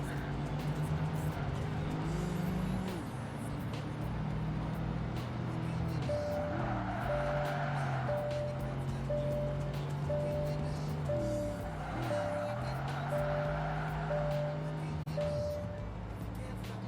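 Car engines at full throttle in the Xbox racing game Project Gotham Racing 2, a loud continuous roar with rising and falling pitch as gears shift, with players talking over it.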